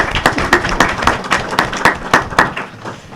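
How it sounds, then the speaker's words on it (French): At a conference on street orphans, a modest audience claps in distinct, uneven bursts, with individual hand claps clearly standing out, close and fairly loud, with no talk. "On peut les applaudir si vous voulez"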